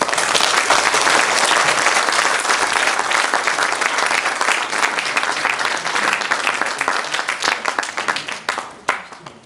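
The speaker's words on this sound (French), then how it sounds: "On peut encore les applaudir, peut-être." Theatre audience applause for the actors after a performance of a classic French play, a dense, loud wash of many hands clapping that holds steady and then thins out into scattered claps at the end.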